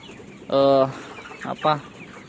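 KUB chickens, free-range kampung hens recovering from a respiratory illness like coryza or snot, give two or three loud nearby clucks and squawks against a quiet barn background.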